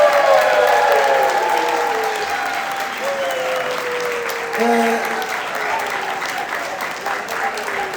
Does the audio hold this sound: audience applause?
yes